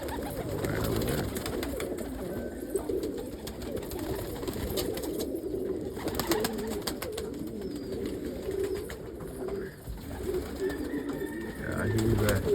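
Pet pigeons or doves coo softly and repeatedly while eating pizza crust, with steady low calls at a moderate distance and some background rustle.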